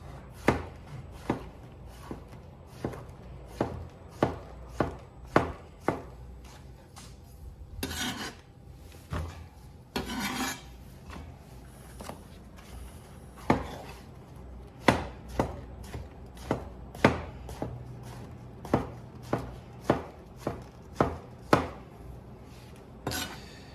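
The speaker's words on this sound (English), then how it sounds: "I'm just going to chop these portobello mushrooms down. And slice it in half and then into pieces like this" A knife chopping portobello mushrooms on a board, with steady, close thuds repeating every second or so, plus an occasional scraping slide of the blade.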